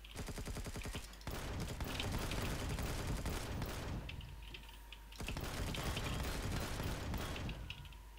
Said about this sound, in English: I love it how you can quick fire this sniper rifle.